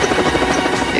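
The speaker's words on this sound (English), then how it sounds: "Oh my god, it's a helicopter." Helicopter engine and rotors producing a loud, steady droning buzz that fills the whole moment, close by and unbroken, with no voices over it.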